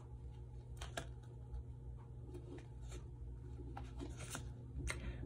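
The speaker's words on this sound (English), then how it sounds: "We better write it down in our handy dandy notebook, right?" A pen scratches and scribbles across a notebook page, drawing a rectangle and small circles, with short strokes and taps over a low steady hum.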